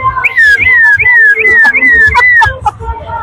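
A toy whistle imitates an ambulance siren with a rapid series of rising-then-falling shrill whoops, about six in a row, loud and close, with a couple of short chirps at the end.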